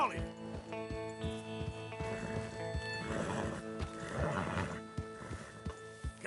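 Horses in the Red Dead Redemption 2 video game neigh and whinny loudly with clip-clopping hooves, several calls overlapping amid a drover's voice urging them along.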